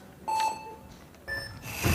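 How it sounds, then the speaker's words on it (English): Start buzzer at a speed climbing final on a beach games wall, with two short electronic beeps spaced about a second apart, then a rising burst of crowd noise as the climbers launch. "And now they look up and wait for the buzzers"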